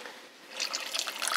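Water pours into a pot holding sugar for jalapeño syrup, a bright splashing trickle that builds from a thin stream into a fuller, bubbling fill, heard up close and alone.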